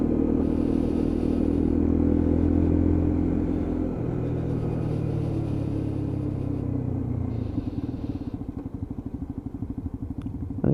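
A Lexmoto Assault motorcycle engine rumbles steadily and loudly close by during urban riding, its low drone shifting pitch around four seconds and settling into a faster pulsing idle-like beat near the end.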